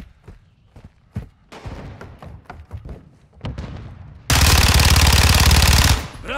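Fennec submachine gun in Modern Warfare 2 rattling off a long, loud, continuous automatic burst of nearly two seconds, preceded by scattered single shots, thuds and footsteps.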